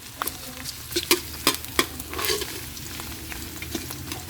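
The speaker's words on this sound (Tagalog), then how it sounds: "Gigisahin ko na nga sa bawang at sibuyas." Garlic and onion sauté in a hot pan for adobong tuyot, a steady close sizzle broken by stirring scrapes and light taps at an uneven rhythm.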